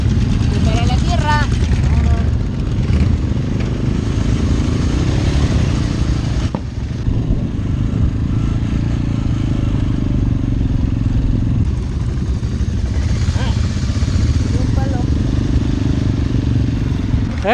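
Several motorcycles on a road trip rumble at close range as they pull in and park, a steady heavy engine drone with clatter throughout and people talking faintly underneath.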